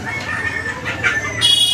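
Chickens and a rooster at a village poultry market in Natore, Bangladesh, brief clucks and a short crowing call amid busy market noise, close by.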